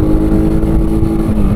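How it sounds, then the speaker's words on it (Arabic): A Sanya R1000 motorcycle engine revs loudly and close, a steady droning tone that climbs slightly in pitch over a moment. "الموتور تبارك الله زويون، يعني طالع ما شاء الله"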